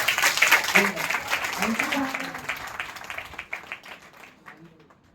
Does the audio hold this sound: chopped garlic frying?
no